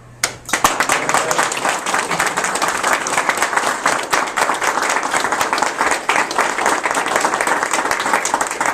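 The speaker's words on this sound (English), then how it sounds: "You can keep clapping." An audience applauds at a Canadian Forces military farewell ceremony, loud sustained clapping that starts abruptly after a brief quiet moment and continues steadily, crisp and close.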